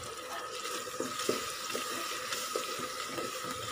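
Ginger, garlic and shallot paste sautés with softened onions in a pan for tomato rice, giving off a steady, close, dense sizzle with a few faint stirring knocks and no talking.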